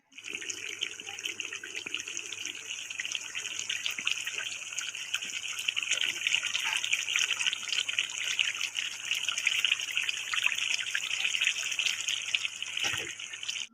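Tap water runs continuously over grapes being washed at a sink, a steady close splashing stream with light trickles and handling sounds, no speech.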